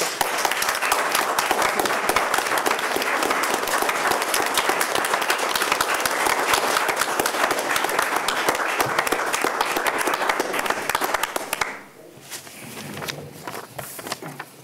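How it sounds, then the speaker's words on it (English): Sustained, dense applause from the audience at a Rhinebeck village board of trustees meeting fills the room for about twelve seconds, then quickly drops to scattered light clapping and faint room noise. "give a round of applause for Colton."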